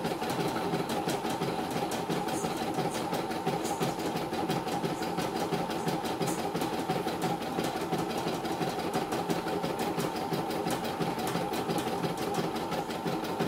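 A CNY E900 embroidery machine runs under test with a rapid, steady mechanical chatter. The needle strokes repeat evenly at a fast pace, close and constant, with no talk.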